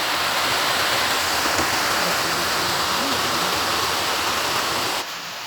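Steady, dense hiss of heavy rain falling close by, continuous and loud, dropping slightly at the very end.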